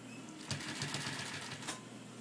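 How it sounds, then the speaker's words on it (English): A sewing machine stitches thick welt cord around the edge of a throw pillow, a soft, steady mechanical whir with faint rhythmic ticking, fairly quiet and close, with no talking. "Now we're going to start sewing this welt cord around the perimeter of this throw pillow."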